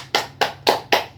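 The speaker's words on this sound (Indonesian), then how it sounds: "tepuk tangan untuk kelompok 1" A classroom of students applauding a presenting group, heard as four slow, loud, evenly spaced claps in unison, close and with no talk over them.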